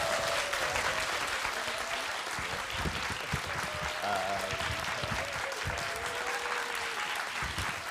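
A studio audience at a televised economics concert applauds loudly and continuously to welcome a speaker, a dense wash of many hands that holds steady throughout, with a voice talking faintly underneath.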